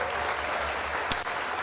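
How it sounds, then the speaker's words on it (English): Outdoor audience at the Pink Dot rally in Hong Lim Park applauds in a dense, even wash of many hands, a short continuous burst at moderate distance. "Let's hear some applause, please."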